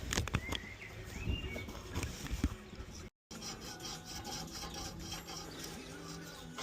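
Steady scraping and rasping on pipes of a vintage tractor, continuous close-up grinding texture with a brief dropout midway.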